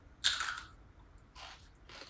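Takis rolled corn tortilla chips with a chili lime coating get bitten up close: one sharp, loud crunch followed by shorter crackly chewing crunches, with two quieter bursts of chewing near the end.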